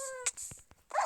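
Dogs whimper and yip in short, high whines and brief cries, close and fairly faint, with a quick squeal near the end.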